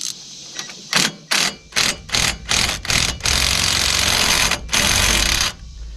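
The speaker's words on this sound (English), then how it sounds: "you're going to have to wrench it." Loud, close ratcheting from a hand wrench turning a wheel bearing bolt during disassembly, short bursts of rapid clicking separated by pauses, then a longer sustained stretch of ratcheting.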